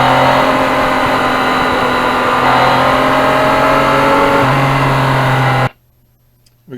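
A 2020 Yamaha MT-09 motorcycle engine drones loud and close while riding on wet back roads, its steady hum shifting pitch slightly before cutting off abruptly near the end.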